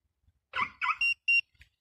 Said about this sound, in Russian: Сигналка аж еле-еле подпискивает.